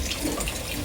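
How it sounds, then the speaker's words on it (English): Hot tap water runs steadily into a measuring cup, a brief, close, continuous gushing splash. "Going to get a little bit of tap water, hot, as hot as I can get it."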